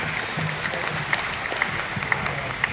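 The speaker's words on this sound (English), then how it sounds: "give a big round of applause for Will McEntire" Scattered audience applause at a youth baseball team's Night of Champions celebration, moderate clapping from a modest crowd with a few sharper distinct claps standing out over a continuous hum.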